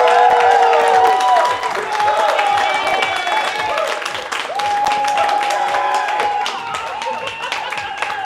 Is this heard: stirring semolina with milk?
no